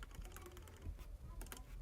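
The side buttons on a Veikk Voila L drawing tablet are pressed in a quick, steady run of crisp plastic clicks, close and fairly quiet, with no talking.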